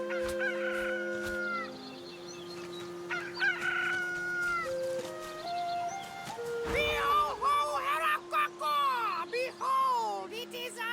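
Magic cockerel crowing in the Divinity: Original Sin II video game, repeated loud rooster crows and clucks with a sustained musical drone underneath, close and clear.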